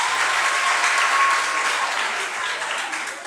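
An audience applauds a participant at a consent talk, with dense, steady clapping at close range that holds evenly and eases slightly near the end.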